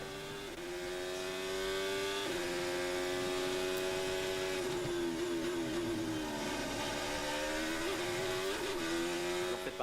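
A Formula 1 car at Imola, heard onboard from a helmet camera, holds a loud continuous engine note that climbs and drops with gear shifts and throttle changes.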